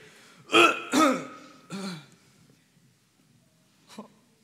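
A stage actor playing a ghost coughs in a school theatre performance of a Hamlet parody, with three loud rasping bursts close together, then quiet and a faint final bark.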